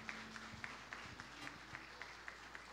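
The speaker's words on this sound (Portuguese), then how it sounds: "Vamos aplaudir a vida deles?" A church congregation claps in a steady, fairly even rhythm at moderate distance during a worship service, with a faint low hum and some voices underneath.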